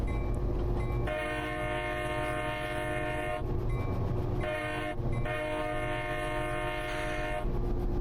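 A locomotive-hauled train in Train Sim Classic on the Illinois Central's City of New Orleans route sounds its horn in two long chords, with a short gap between them, over a steady rumble of rolling wagons.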